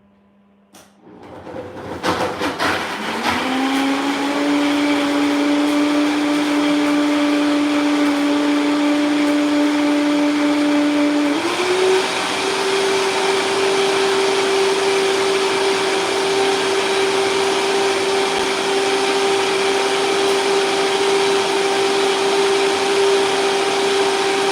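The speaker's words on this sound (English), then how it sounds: "a vacuum blender is a luxury" A vacuum blender whirs up from quiet into a loud, steady motor whine, its pitch sliding upward and settling, then stepping slightly higher midway and holding a constant drone to the end.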